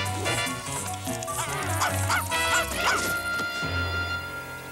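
A cartoon dog barks several times over a busy music bed, the yaps loud and close.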